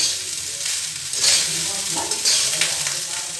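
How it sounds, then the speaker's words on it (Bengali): Fried rice stirred in a pan over low flame makes a continuous close sizzle, overlaid with repeated scraping strokes of a spatula, loud and steady with no speech. "এবার আমি লো ফ্লেমে রেখে এটাকে নেড়ে নেব ভালোভাবে।"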